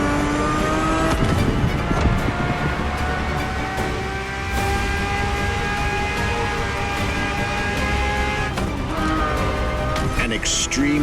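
A sports car engine in The Crew Motorfest revs and roars continuously with layered whining harmonics, loud and close, while a narrator talks over it throughout.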